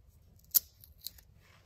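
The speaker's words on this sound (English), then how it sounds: "I'm gonna go ahead and take a pair of needle nose pliers and snip that off." Needle nose pliers snipping off a wire inside a Mac Pro during a WiFi and Bluetooth upgrade, a sharp close click followed by a softer second click in a quiet room.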